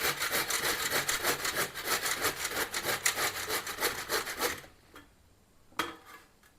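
Bottle gourd rubbed against a medium-size kitchen grater in quick, even rasping strokes for several seconds, then a pause and one or two last scrapes, close and fairly loud.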